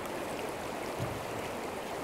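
A flowing river, a steady broadband rush of water running continuously at an even, moderate level with no other sounds.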